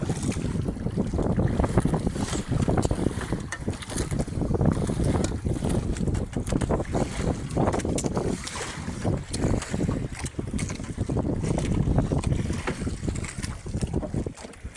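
Wind blows constantly over a tuna fishing boat at sea, a loud continuous rushing roar with water slapping and hull noise beneath it and no clear talking.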